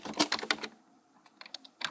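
Keys clatter on a computer keyboard in a quick burst of taps, then a pause, then a few more scattered presses, close and fairly light, with no voice.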